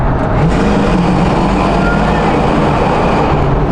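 A muscle car's V8 engine roars steadily and loudly from inside the car, a dense continuous rumble with road noise throughout.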